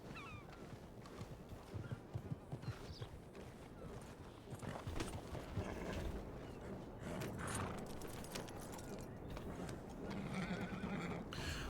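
Horse hooves clop on the ground with a neigh early on in the video game Red Dead Redemption 2, all faint under a soft ambient background.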